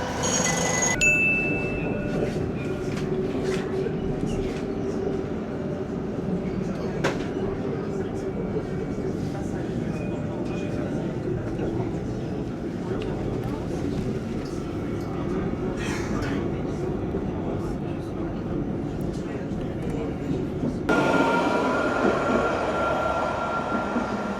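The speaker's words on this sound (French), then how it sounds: "Il y a un tram qui arrive, on va le prendre tout de suite." An Île-de-France line 7 tram pulls in and then carries passengers, giving a steady rumbling ride with brief squeals and clatter throughout and a louder shift near the end, while people talk quietly nearby.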